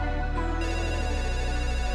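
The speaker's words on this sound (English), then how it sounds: "Phone's ringing again." A telephone ringtone sounds in a music album skit, a steady, continuous electronic ring held loud over a low musical bed, with no voices.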